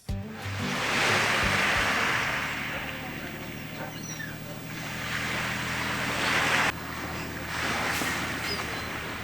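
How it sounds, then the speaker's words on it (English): Continuous rushing sea water, like waves washing in, fills the scene as a broad steady wash with gentle swells, plus some wind and low rumble, at Russell in the Bay of Islands, New Zealand. "the sound of the water, it's so serene"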